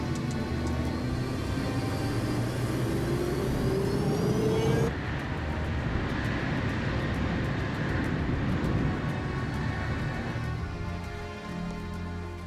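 Airliner taking off from a runway, a loud, steady roar of jet engines with a rising whine of spool-up, heard from inside the cabin as power builds and persists, no talking.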